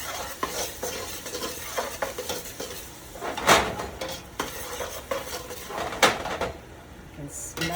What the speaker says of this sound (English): Add the onions. Of course, they should go in the pan.